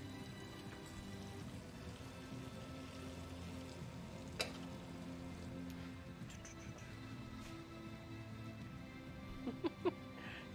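Smoked mushrooms sizzle faintly in a pan as they are stirred, a soft steady frying hiss with a few light clicks and taps near the end.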